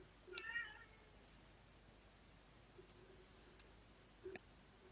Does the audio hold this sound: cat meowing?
yes